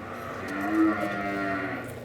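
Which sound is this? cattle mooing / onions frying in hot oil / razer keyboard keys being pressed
cattle mooing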